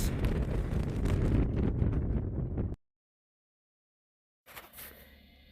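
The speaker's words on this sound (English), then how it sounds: "It is cold and windy." Heavy wind buffets the microphone in a loud rumbling roar at Badwater Basin in Death Valley, California, cuts to silence, then returns more softly.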